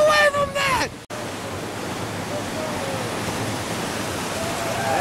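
A whitewater rapid on the Gauley River, Pure Screaming Hell, during fall rafting, gives off a loud, continuous roar of churning water. A voice is heard over it in the first second before the steady rush takes over.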